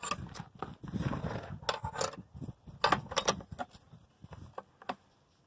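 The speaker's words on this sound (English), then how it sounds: "you take a pry bar, and you just work it, both sides." A pry bar works a part off the shaft of an older Briggs and Stratton engine, giving a run of irregular metallic creaks, clicks and scraping knocks close up, with no speech.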